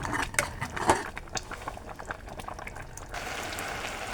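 Carrot halwa cooks over low heat in a pan and is stirred steadily, a close, moist bubbling sizzle broken by soft scraping and a few light clinks of the spoon against the pan.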